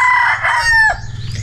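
A rooster crows loudly and close by at a simple tiny house, one drawn-out cock-a-doodle-doo with a falling end, followed by softer chicken clucks over a low background rumble.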